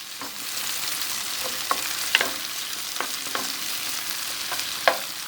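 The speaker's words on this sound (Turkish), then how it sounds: "Şimdi köfteleri de küp küp doğradık. İçerisine atıyorum." Cubed meatballs sizzle steadily in a hot pan, with occasional small pops and scraping stirs, no voices.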